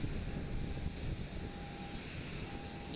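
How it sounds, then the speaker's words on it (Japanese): A JAL Boeing 787 Dreamliner and an ANA airliner departing from Osaka Itami Airport for Tokyo Haneda, heard as a steady, distant jet engine roar with a broad even rumble, faint and unbroken. "787ドリームライナー JAL の方と、そしてこちら ANA の飛行機が同時に出発しようというところ"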